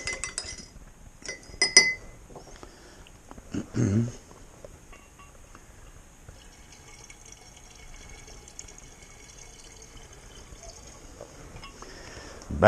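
Glass clinks while bentonite is added to a pear and peach wine, a few sharp bright taps early on, then quieter faint handling of glassware and liquid, close by.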